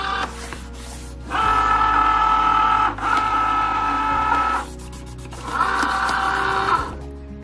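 A Cricut cutting machine drawing in an infusible ink transfer sheet, sounding as three loud whirring motor runs separated by short pauses, steady and close with a mechanical hum.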